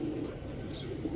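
Pigeons at a seller's stall give soft, low cooing that continues steadily, close by, over a short stretch with no talk.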